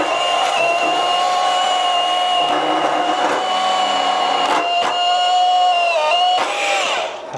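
A power saw grinds through a heavily welded steel bumper slider for a Jeep Comanche, a loud steady whine with strained dips and stutters as the blade binds in the tensioned metal.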